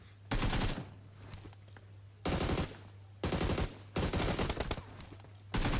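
Bursts of rapid automatic gunfire, including an AKM rifle, come from a PUBG Mobile match, with four or five loud, close volleys separated by short quieter gaps and a steady low hum underneath.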